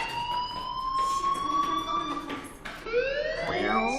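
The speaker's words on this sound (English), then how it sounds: "do you hear that fire alarm?" A school fire alarm in the video game Life is Strange wails with steady electronic tones that slide and waver, a new rising and falling tone joining near the end, loud and continuous with no talk.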